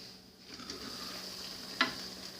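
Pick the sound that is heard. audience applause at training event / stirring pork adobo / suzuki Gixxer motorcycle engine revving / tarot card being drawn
stirring pork adobo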